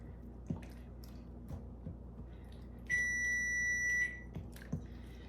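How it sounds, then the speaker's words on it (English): A kitchen oven timer sounds one steady, clear electronic beep of about a second, signalling the oven has preheated, against quiet room noise with light clatter. "There's the oven timer. It says the oven is now to temperature."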